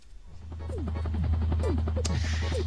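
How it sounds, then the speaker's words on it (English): A helicopter's rotor chops steadily overhead, a low pulsing drone with repeated sweeping whines rising and falling. "So, Trisha, how do you like the helicopter?"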